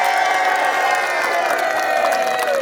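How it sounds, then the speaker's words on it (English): A tour group of visitors at the Tower of London cheers and claps together in a sustained burst of applause and whoops that holds steady for a few seconds, fairly close. "If you've enjoyed the tour, then please feel free to cheer and clap."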